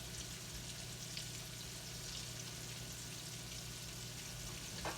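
Crab cakes frying in a pan, giving a steady, faint sizzle and crackle of hot oil that runs continuously with no talk.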